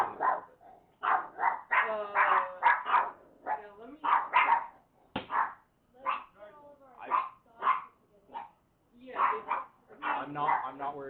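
Dogs bark repeatedly at a home's front door during a police arrest, in loud close yaps and woofs with short whimpery gaps, mixed in with people talking.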